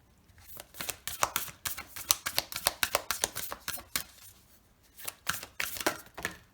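Tarot cards shuffled in quick bursts of crisp riffling and slapping, two clusters separated by a short pause, close and alone with no talk.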